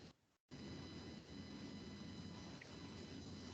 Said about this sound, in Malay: Patutlah bunyi macam enjin kapal terbang.